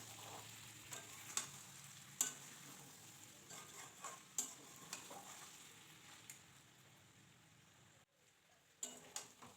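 Duck meat and potatoes sautéing in a pan, a low steady sizzle broken by repeated sharp scrapes and clinks of stirring, fairly quiet and close with no voices.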